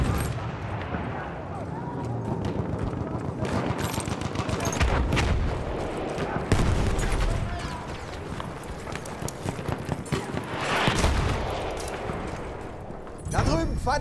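Lewis gun bursts crackle through a World War I battle at Amiens in a first-person shooter, dense rapid gunfire mixed with distant shots, footsteps and battlefield clamor, with voices shouting over the din.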